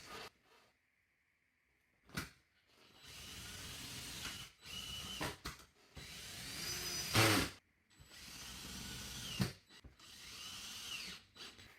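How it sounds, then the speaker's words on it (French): Power drill driving screws through a reinforcement board into plasterboard ceiling rails, several bursts of whirring close by with short pauses and clattering handling noises between them. "je prends mon renfort, je le mets au plafond, je viens visser pour trouver mes rails."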